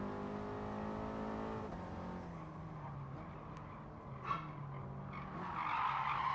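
A race car in a sim racing game at the Nurburgring brakes hard and skids, the engine note dropping as a sustained tire squeal builds and rises toward the end, loud and continuous without speech.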